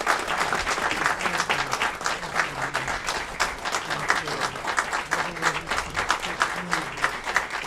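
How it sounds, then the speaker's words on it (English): A seated crowd at an Aurora city council meeting applauds Dick Miller on his honorary day, steady dense clapping lasting throughout with a few voices murmuring underneath. "Big round of applause for Mr."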